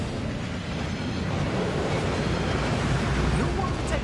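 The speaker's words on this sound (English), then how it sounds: "That waterfall washes away all enchantments." Steady, loud rushing water of a waterfall in the Hogwarts Legacy video game, a continuous broadband roar with no break, heard alone without talk.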